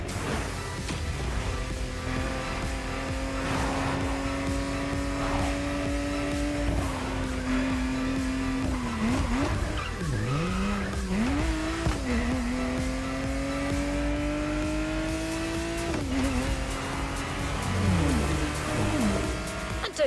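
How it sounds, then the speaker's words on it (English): A Porsche 911 GT3 Cup race car in The Crew Motorfest screams around a track, its engine note rising through gears with drops at shifts and occasional tire squeal through corners, loud and continuous. "We got our hands on the GT3 Cup, a model designed with track racing in mind."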